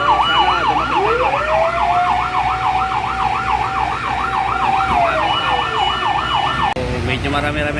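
A fire truck siren wails steadily at a house fire in Barangay BF, Parañaque, its rapid yelp rising and falling loudly and close, with a second siren tone sweeping beneath, then cutting off near the end into street noise.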